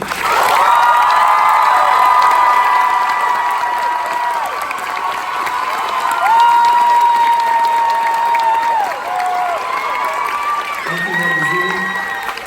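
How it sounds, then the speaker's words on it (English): Loud, sustained audience applause and cheering at a theater's final curtain call for a musical, with whoops and shouts throughout and people talking over the crowd. "let's all give the biggest round of applause"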